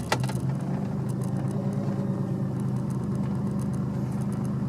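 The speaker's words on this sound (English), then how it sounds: "I was trying to get the car to idle around 600 RPM, and it wasn't too happy about that" BMW E30 engine idling low around 600 RPM with an uneven, loping rumble, a steady close mechanical drone that slightly wavers throughout.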